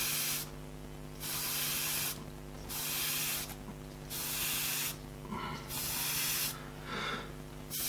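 Short bursts of an airbrush spraying paint dots, four or five separate hissing puffs of a second or so each, close and steady, over a constant low compressor hum.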